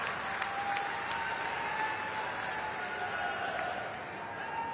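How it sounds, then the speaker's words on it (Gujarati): Applause from a political rally audience in Gujarat, a broad, steady wash of many hands clapping at a distance that holds evenly for several seconds before easing slightly near the end. "એમના માટે જબરજસ્ત તાળીઓથી એમનું સ્વાગત કરીએ"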